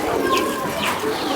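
Sialkoti pigeons coo close by in a short burst, two soft rising calls over a low background murmur.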